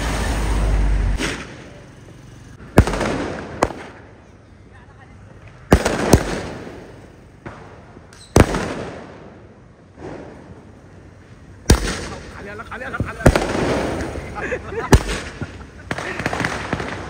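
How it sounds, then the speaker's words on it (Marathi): Diwali firecrackers bursting outside a residential building, a series of sharp loud bangs spaced a few seconds apart with crackling between them, while people talk nearby. "आता पहिले बिल्डिंगच्या बाहेर वाजवणार आहे फटाके"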